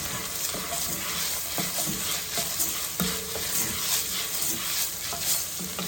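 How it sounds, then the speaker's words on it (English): Ground beef, vegetables and garlic sizzling loudly in a pan while being stirred, a dense frying hiss with scraping utensil sounds and occasional knocks. "Let's give that a stir."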